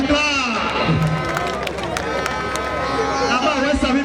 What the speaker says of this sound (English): Make una clap.